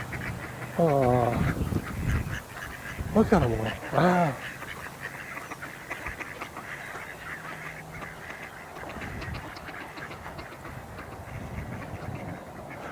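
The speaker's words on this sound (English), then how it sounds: "Let me just get to these ducks here first though." Several waterfowl give honking, quacking calls in short loud bursts near the start, then fade into a steady outdoor background while a person talks briefly over them.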